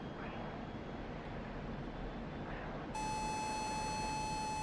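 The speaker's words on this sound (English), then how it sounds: "I think somebody's locking onto us." A radar lock warning sounds inside a MiG-29A Fulcrum cockpit in DCS World: after a muffled jet engine hum, a steady, piercing electronic tone switches on abruptly and holds, loud over the engine noise.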